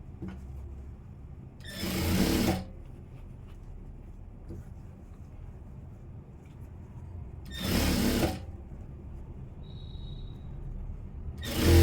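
A sewing machine stitches a blouse front in two short, loud whirring bursts with quiet gaps between, starting again at the end.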